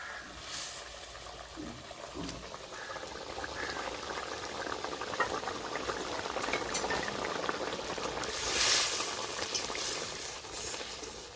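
Boal fish pieces bubble and sizzle in a pan of spicy oil curry with a little water added, a steady, fairly close simmering hiss that runs the whole time, with no talk.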